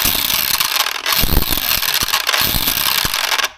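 Arrma Gorgon RC car drivetrain running with the gear cover off, giving a loud, continuous whirring and grinding gear noise with rattling clicks, close up, with no talking.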